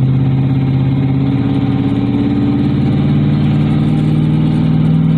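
Steady, loud drone of a 2009 2500HD truck's 6.0 gas engine held at half throttle while towing about 5,000 lbs, a constant low hum with road noise and no talking.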